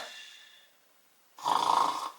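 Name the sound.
adult imitating snoring to lull a baby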